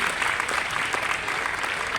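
Steady audience applause at a poetry reading at Sahitya Aajtak, a dense, even wash of many hands clapping at moderate volume with no voices.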